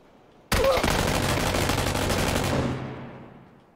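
A sustained burst of automatic gunfire fired through a wall in PUBG, loud and dense for about two seconds before trailing off into a fading echo, with no talking.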